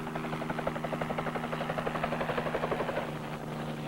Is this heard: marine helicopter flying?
yes